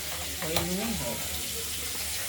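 Katla fish fries in hot oil, a loud, continuous close sizzle hissing evenly throughout, while a voice hums or speaks briefly underneath.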